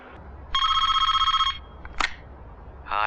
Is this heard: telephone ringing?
yes